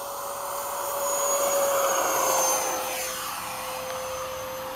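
An F-104 model jet, a 6S electric ducted-fan, makes a fast pass, its high whine swelling to a loud peak and then fading away, with a steady tonal hum and no talk.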